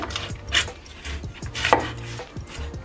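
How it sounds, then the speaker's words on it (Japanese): Kitchen knife chopping a raw onion into 5 mm rings on a cutting board, a series of crisp, close knocks spaced roughly half a second apart with a soft crunch, no talking. "だいたい5ミリぐらいの大きさの輪切りにしていきます"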